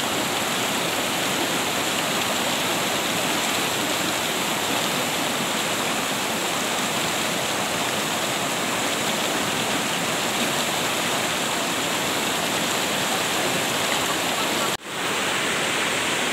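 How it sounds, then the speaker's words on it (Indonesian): A small waterfall runs into the Cimandiri River with a constant, loud, dense rushing roar that continues unbroken throughout. "Curug yang bermuara ke Sungai Cimandiri."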